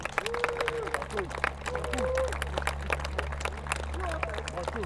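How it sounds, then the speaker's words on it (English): Spectators at a 2WD radio-controlled car racing nationals clap and cheer for a driver as the grid is announced, a steady spread of applause under an announcer's amplified voice over a low hum. "Big cheer and round of applause, Ben Smith"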